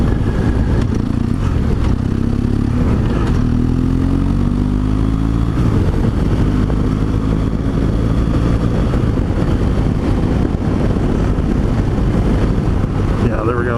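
A BMW R 1200 GS Adventure motorcycle underway, a loud steady engine drone with rising and falling gear tones under heavy wind rush, close to the rider, with speech faintly mixed in.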